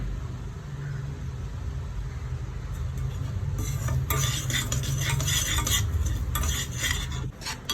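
Sugar melting into caramel for a plum cake, stirred in a pan: a low steady hum at first, then a run of close, rapid metallic scraping and clinking from the spoon in the second half.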